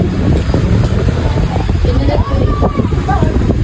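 Strong outdoor wind buffets and rumbles continuously, roaring low and loud with a steady hiss, while faint voices sit underneath.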